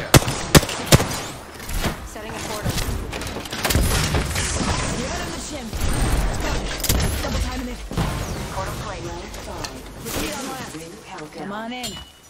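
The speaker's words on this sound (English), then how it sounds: "Opening fire on the enemy." Gunfire from the Apex Legends battle royale game bursts repeatedly under a dense mix of game voices and effects, with sharp shots early on and continuous combat noise throughout.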